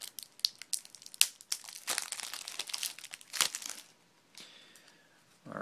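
Plastic and cardboard packaging of a Magic: The Gathering Venser vs. Koth duel deck being opened by hand, close crinkling, tearing and crunching in irregular bursts, then quieter rustling.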